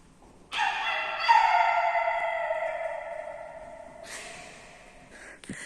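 A dog at a street music festival gives a long, drawn-out howling whine that slowly fades, then a brief yip near the end, fairly close and without talk over it.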